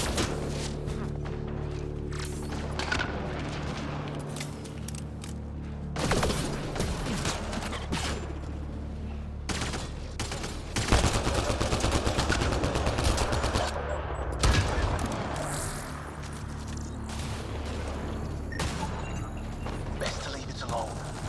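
Gunfire from a rifle in a video game, sharp repeated shots among clicking, ratcheting weapon mechanics and clanks, fairly close and steady through the scene, with brief talk in places.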